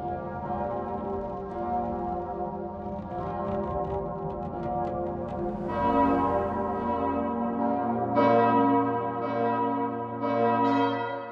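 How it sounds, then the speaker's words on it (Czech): Large church bells ring in the bell tower of Notre-Dame cathedral, several bells overlapping in a rich sustained peal with fresh strikes swelling in every few seconds, resonant and moderately distant, no talking. "Zvony byly vysvěcené a každý dostal jméno."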